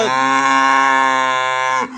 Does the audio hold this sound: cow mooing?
yes